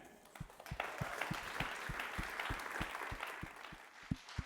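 Applause from a congregation at a prayer conference, a steady wash of many hands clapping at moderate distance, with a few sharper, more regular claps standing out and continuing throughout.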